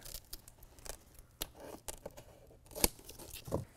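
Scissors snip white-backed Velcro to length while a truck bed liner is being fitted, with several sharp, separate cuts at an uneven pace, close up and fairly quiet, and one louder snip near the end.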